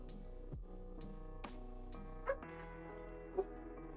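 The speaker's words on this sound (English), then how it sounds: "My dog's deciding she's gonna bark at cats outside." A female dog indoors barks at cats outside, giving a few short, muffled barks and yips over a steady low background hum.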